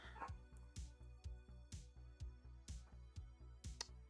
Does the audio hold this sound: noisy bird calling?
no